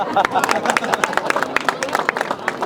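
Lively applause for film producers at a Punjabi film press conference, many hands clapping close and steady in a sustained burst with crowd murmur under it.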